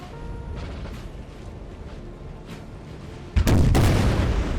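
Artillery fire in the video game Napoleon: Total War: a low rumbling battle ambience with faint distant thuds, then a sudden loud cannon boom near the end, followed by sustained roaring.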